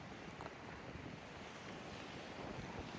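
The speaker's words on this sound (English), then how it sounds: "That's the Atlantic Ocean right there." Atlantic Ocean surf rolls in as a faint, steady wash from some distance, mixed with wind buffeting the microphone and no speech.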